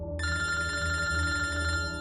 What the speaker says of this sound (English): I woke up to the sound of my phone ringing.